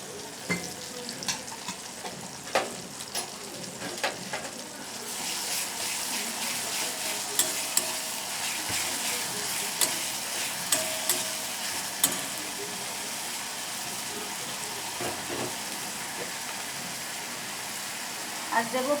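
Onion paste fries and hisses in a pan while a spoon stirs and scrapes it, producing a continuous sizzle with periodic clinks and scrapes, and a voice speaks over the cooking.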